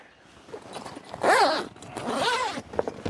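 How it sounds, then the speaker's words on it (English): A super-size YKK zip on a Quick Pitch Aero Gen 2 roof tent rasps open in two quick pulls, close and crisp, with a brief pause between strokes and light handling noise around them. "we don't just have YKK zips, we have super size YKK zips"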